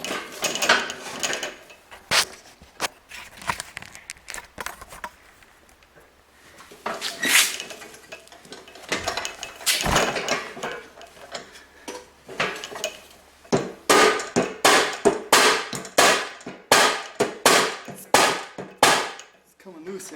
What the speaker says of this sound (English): we'll see if we can pound that thing loose now.